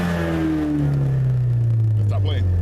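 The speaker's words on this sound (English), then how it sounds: "my Mustang is a 4-cylinder. I got the EcoBoost, but it has an aftermarket exhaust on it." A four-cylinder Ford Mustang EcoBoost with an aftermarket exhaust revs loudly close by, its engine note climbing and then easing off in a steady drone across the clip.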